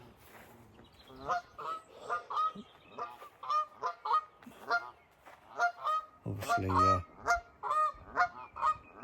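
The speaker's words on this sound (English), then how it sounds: "Noisy goose." Geese honk noisily from their nest on a reed-fringed island beside a fishing swim on a common, calling repeatedly in bursts at close-to-middle distance, with a brief spoken word early on.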